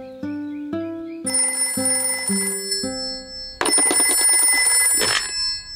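A cartoon telephone in Peppa Pig rings with a run of stepped electronic tones followed by a bright, sustained ringing burst, heard alone without talk.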